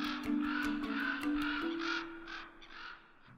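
Ravens in the West Mojave desert give a rapid run of harsh, repeated caws, fairly close and loud, fading toward the end, with a steady low hum running underneath.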